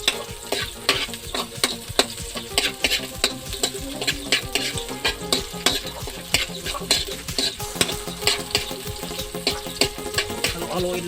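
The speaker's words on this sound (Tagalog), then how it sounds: "Halo-haloin lang natin mga kapadlong" Garlic with red and green chili stirred in a hot pan, quick repeated scraping of the utensil over a sizzling hiss, close and busy, no voices.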